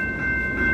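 Steady low rumble with a held tonal whine as the Canadian Pacific Holiday Train passes at Montréal-Ouest, close and unbroken, no voices.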